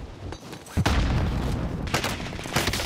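Video game gunfire, a quiet opening followed by a sudden loud burst of shots that continues as steady firing, with another sharp crack near the end.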